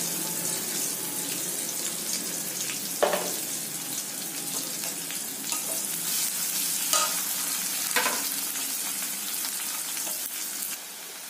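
A medium onion sizzles and fries steadily in a hot pan for a jackfruit and prawn curry, with a constant crackle punctuated by occasional stirring scrapes and small bumps, fairly quiet and close.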